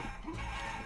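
Chickens cluck once briefly in the video game Guacamelee, a faint, short fowl sound over quiet game background.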